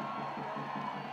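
A crowd cheers at an immigration reform rally in Washington, DC, a faint and distant wash of voices and whoops that lasts only a moment.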